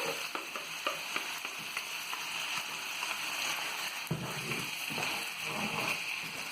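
Garlic stir-frying in a hot pan, a steady close sizzle with light scraping and stirring clicks throughout, and no talk.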